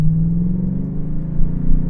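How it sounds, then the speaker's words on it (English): Chevrolet TrailBlazer SS with its LS2 V8 engine, a 400 HP SUV, idling and puttering along with a deep, steady low rumble that swells slightly, heard alone and close. "This engine sounds so good."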